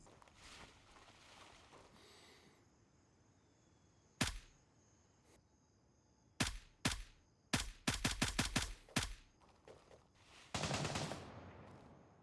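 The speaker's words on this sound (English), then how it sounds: "shots rang out, but I had no visual on the shooters" Gunshots in the military shooter Gray Zone Warfare ring out over a quiet ambient bed: a single sharp crack, then several spaced shots and a fast burst of rapid fire, loud and close, followed by a longer rattling volley.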